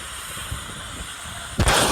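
A supersonic military plane passing overhead sets off a sonic boom, a single sudden loud blast near the end that breaks through a steady rushing background.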